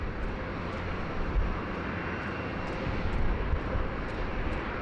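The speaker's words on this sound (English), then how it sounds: "Here we have the 737 MAX 8 Fiji Airways now lining up, runway 16 right." A Fiji Airways Boeing 737 MAX 8 lining up on runway 16 right at Sydney Airport gives off a steady, broad jet-engine roar that holds at an even level throughout, with no voices.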